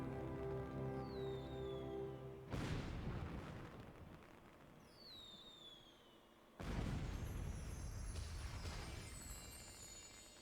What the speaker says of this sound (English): What an impressive firework display to celebrate the 4th winning of the sets.